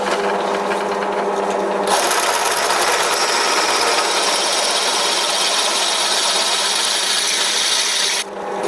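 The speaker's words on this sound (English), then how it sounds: "This time I'm going to countersink the holes with the correct size drill bit." Drill bit countersinking holes in a small Bison three-jaw lathe chuck, a loud continuous grinding and rasping whir that runs steadily for several seconds before abruptly cutting off.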